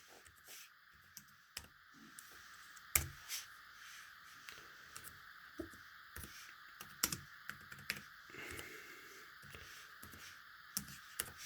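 Typing on the keyboard of a Samsung Galaxy Chromebook, a quiet run of irregular key clicks and taps with a few sharper, louder strikes, close up and alone.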